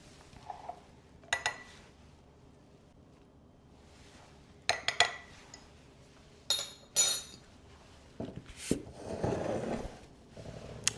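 A spoon clinks against a container while mixing flour and water into a rehydrating sourdough starter, giving scattered sharp taps and scrapes with quiet gaps between, ending in a longer stretch of stirring.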